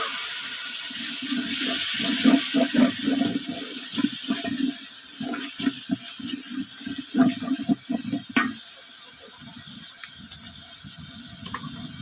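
Water is poured into a bowl of blended spice paste while cooking, a gushing, splashing stream in uneven bursts that tapers off into quieter trickles and drips.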